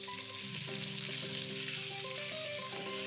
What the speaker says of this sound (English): Put the onions right in there.